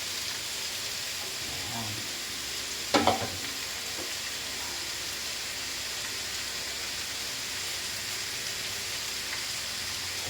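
Kalabasa squash sautés in a pan with chayote, giving a steady, even sizzle throughout. A short clatter of stirring sounds early on, and a voice says one brief word.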